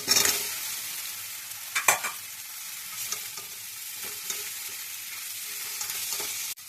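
Mixed vegetables and prawns fry in a garlic, ginger, onion and tomato masala, giving a continuous close sizzle with a few sharp stirring scrapes scattered through it.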